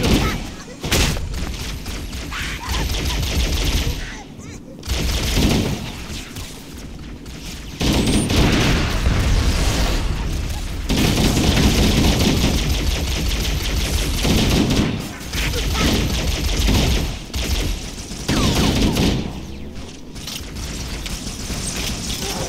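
Enemy gunfire in the Halo video game crackles in repeated bursts and volleys across a bridge, loud and dense with short lulls, with players talking over the shooting.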